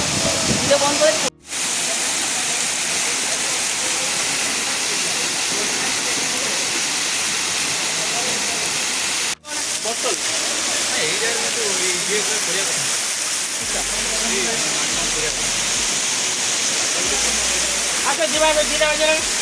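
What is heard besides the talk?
waterfall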